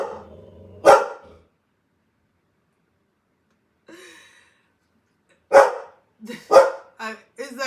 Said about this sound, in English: Mira, there's no need to bark